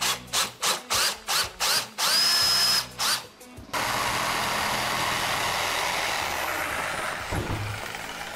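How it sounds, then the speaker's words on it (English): A power drill bores a starter hole for a jigsaw cut during a master suite vanity and countertop installation, first in several short bursts, then one long steady grind, loud and close. "I use a drill bit as a starter point"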